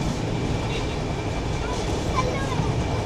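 A passenger train bound for Araku rumbles steadily as heard from inside the carriage, with a continuous broadband roar and a faint rhythmic rattle, and a voice talks over it.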